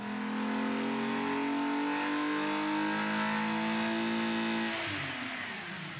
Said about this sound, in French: On va voir le dyno.